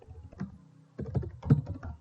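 Fingers type on a computer keyboard, with a few soft, muffled key presses followed by a quick cluster of clicks, faint and close.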